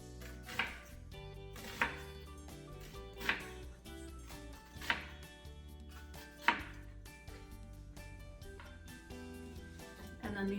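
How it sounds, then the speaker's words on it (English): An onion halved and sliced on a cutting board: a knife strikes the board in six spaced, crisp chops about every second and a half, close and fairly quiet over a faint background hum. "you just want to cut slice sizes here. And you can cut all the way to the end."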